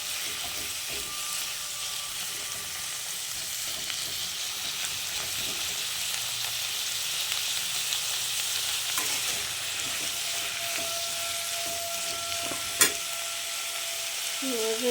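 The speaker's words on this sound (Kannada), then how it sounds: "ಇದನ್ನು ಚೆನ್ನಾಗಿ ಬಾಡಿಸ್ಕೊತೀನಿ ಈರುಳ್ಳಿ ಜೊತೆಗೆ." Onions and other ingredients sautéing in a pan give a steady, close sizzle and crackle with occasional stirring scrapes, continuous and fairly loud throughout.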